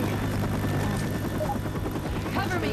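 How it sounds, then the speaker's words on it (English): A helicopter's steady rotor thump and engine drone in the video game Left 4 Dead 2, loud and continuous, with a voice speaking briefly over it. "Cover me. Helicopter."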